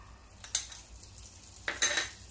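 Homemade caramel with butter being stirred in a pot, two short scraping, sizzling swishes of a spoon against the pot over a faint, quiet background, close and brief.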